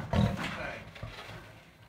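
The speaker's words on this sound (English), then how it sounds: "A little hiss and a little lion bark." A lion confined in a small enclosure gives a short hiss and a low, gruff bark-like roar at close range, a sharp burst early on followed by rough breathy sounds that fade.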